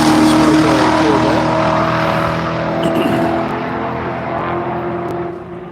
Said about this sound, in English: So we see the E-Ray coming through here.